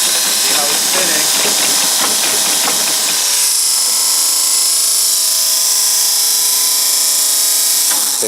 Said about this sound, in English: See the whole motor jogging around.